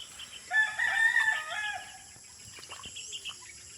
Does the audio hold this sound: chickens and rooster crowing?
yes